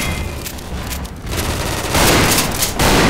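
Dense, loud gunfire from a chaotic video game firefight, a continuous roar of overlapping shots and blasts without clear gaps, heavily distorted throughout.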